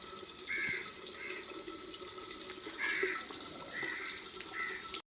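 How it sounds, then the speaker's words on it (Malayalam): Water runs steadily into a catfish pond tank on a fish farm, a soft continuous wash at moderate distance with a few brief chirps over it and no talking. "പിന്നെ വെള്ളം നിറയും കുറച്ച് സമയം എടുക്കും."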